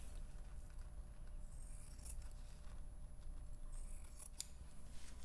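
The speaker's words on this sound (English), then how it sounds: "I'm going to very carefully trim off the selvage." Scissors snip through the selvage edge of fabric in a quiet fabric-book stitching session, giving a few soft, close cuts over a low steady room hum.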